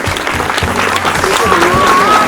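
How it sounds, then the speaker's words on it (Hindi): An audience at a Christmas celebration claps in a loud, close burst of applause, with some voices and a faint tone mixed in over the short stretch. "ताली हो जाए।"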